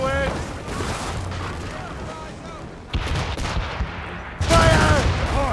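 Cannon and musket volleys in the Assassin's Creed Rogue video game, heavy booms and crackling fire arriving in a few separate salvos, with shouting voices over and between them.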